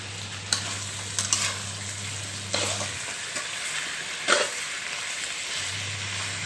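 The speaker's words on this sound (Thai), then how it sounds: "เครื่องปรุงก็จะมี ใบกะเพรา แล้วก็ กระชาย พริกไทยสด กำลังผัดอยู่พี่น้อง" Sand shark fish being stir-fried with holy basil, fingerroot and fresh peppercorns in a hot pan, a steady soft sizzle broken by several sharp scraping stirs of a spatula, with a low hum present.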